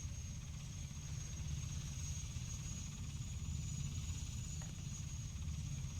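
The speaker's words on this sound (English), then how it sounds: "I think I have to get out of the helicopter to do that." Helicopter in Battlefield 1942, a constant rotor and engine drone with a low thumping chop and a thin high whine, holding steady throughout with no voices.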